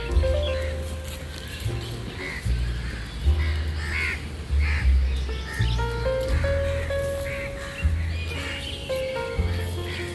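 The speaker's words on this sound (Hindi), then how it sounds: "अक्षय अभी कबूतरों को खाना खिला रहा है।" Pigeons and other birds call and caw intermittently around a feeding spot, some harsh and crow-like, scattered over a rhythmic background with deep pulsing tones.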